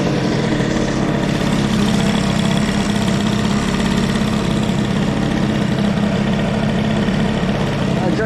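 A moped engine warms up, running at a steady, loud, close idle with an unbroken buzzing drone and slight knocking vibration throughout.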